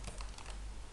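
Quick bursts of keystrokes on a computer keyboard, a short cluster of soft taps over a steady low background hum with no talking.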